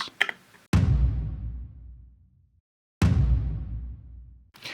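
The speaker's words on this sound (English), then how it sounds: "we have this tom impact thing" Two booming tom impact hits from a music production track, each a sharp attack decaying into a long low rumble, with a short click before the first and another hit starting at the end.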